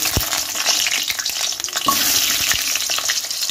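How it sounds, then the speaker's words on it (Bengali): Potatoes fry in a pan with a loud, continuous hiss and crackle, broken by a few sharp scrapes of stirring. No voices are heard. "প্রথমে আমি আলুগুলো আগে ভেজে নেব।"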